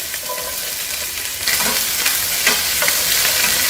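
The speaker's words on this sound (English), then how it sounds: "Use the same pots, some oil. Add our onions." Onions frying in oil in a pot, a steady close sizzle that grows louder partway through with occasional stirring scrapes, no talking.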